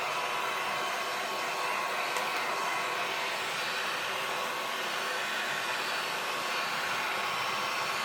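A heat tool blows continuously on a glitter-covered handmade card, a loud steady close whooshing roar that holds unchanged throughout with no talk.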